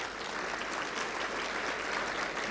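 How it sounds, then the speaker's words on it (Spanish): At a sustainable development forum in Santiago, an audience applauds as a panelist walks on stage, a dense, even wash of clapping from many hands that holds steady throughout, with no one speaking. "Un aplauso, por favor,"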